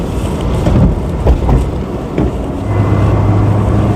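A Hyundai Amica CDX car on the road, heard from inside as a loud, rumbling engine and road noise with buffeting bumps and a steady low hum building in the second half.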